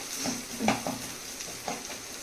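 Grated ginger and onion sautéing in a pan: soft, steady sizzle with a few brief scraping stirs, close and fairly quiet.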